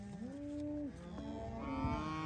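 Several cows moo in long, drawn-out calls on a farm while being herded across to a pasture, one low bellow following another with overlapping voices and a steady outdoor background.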